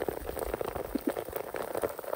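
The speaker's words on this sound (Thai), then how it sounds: "ฝนตกบักคักค่ะ" Heavy rain pours steadily outdoors during mushroom foraging, a dense, continuous patter of drops striking surfaces close to the microphone.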